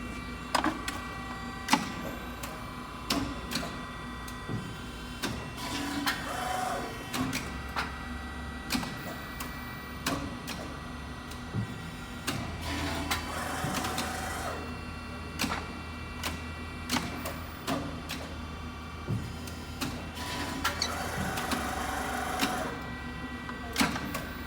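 An Adira QHD-6020 CNC press brake running in a workshop, giving repeated mechanical ticks and clicks with a low steady hydraulic hum and periodic louder stroke cycles, no talking.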